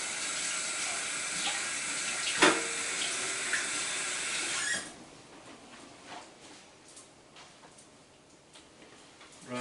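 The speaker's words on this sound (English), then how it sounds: "And wash this spatula off with some soap and water." Running tap water splashes steadily in a sink as a spatula is rinsed with soap, a bright hiss that stops midway, leaving faint clinks and handling noises close by.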